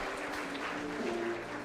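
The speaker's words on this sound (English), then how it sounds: "A round of applause." Applause from an audience at a legal awards ceremony in Nairobi, a faint, continuous patter of clapping heard at a distance in a large hall.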